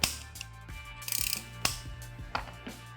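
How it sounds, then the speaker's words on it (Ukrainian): Telescopic tube of a Procraft VP2000 construction vacuum cleaner being adjusted, giving a run of sharp ratcheting clicks and a few separate mechanical snaps, close and distinct in a quiet room with no talking. "Далі телескопічна труба з регулятором."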